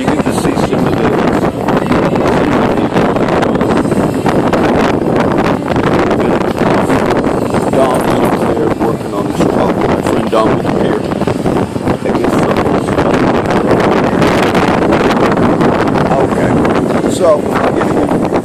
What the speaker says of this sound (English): The wind's coming through